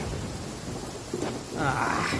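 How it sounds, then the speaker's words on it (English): Thunder rolls over steady rain in a lightning storm in Genshin Impact, a dense wash of rainfall with a deep rumble building and swelling louder near the end. "Lightning storm!"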